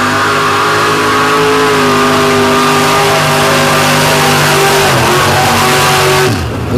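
Nitrous-equipped drag racing truck roars loudly through a run with a faulty nitrous solenoid, its engine droning and rising in pitch with shifting harmonics before the note drops away near the end.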